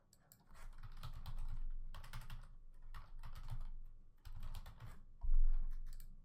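Typing on a computer keyboard, heard up close and quietly in bursts of rapid key clicks separated by short pauses, with no voices.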